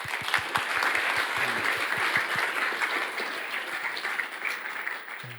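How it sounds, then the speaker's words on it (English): Sustained audience applause fills a conference welcome session after sponsors are thanked, a dense steady wash of many hands clapping at close range that holds for several seconds before easing slightly at the end. "So a round of applause to the sponsors."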